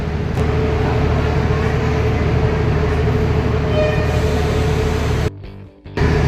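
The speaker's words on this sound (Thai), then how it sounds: "ตอนรถไฟ มาถึงที่สถานีรถไฟเชียงใหม่" A train arriving at Chiang Mai railway station from Bangkok rumbles steadily and close with clattering and a low mechanical hum, before the noise cuts away briefly near the end.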